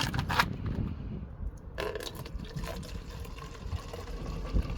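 Water poured into a container while mixing car wash foam solution, a continuous close splashing and gurgling fill with a brief scrape near the start.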